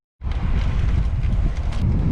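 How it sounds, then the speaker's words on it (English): Strong wind buffets the microphone on a cycling ride, a loud low roar that starts suddenly and rumbles on steadily, close and unbroken. "Oh my god, it's windy."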